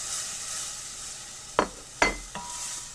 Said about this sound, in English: So I'm going to get all of this sauteed.